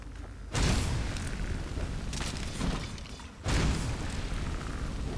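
A fire spell striking a skeleton in Skyrim, heard as two loud whooshing bursts of flame about three seconds apart with roaring fire filling the gaps.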